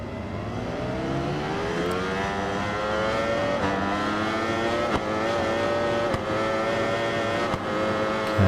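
Superbike from the Stock 1000 Cup in the racing game RIDE 4, its engine screaming at high revs continuously, pitch climbing through gears with brief shifts, loud and close throughout.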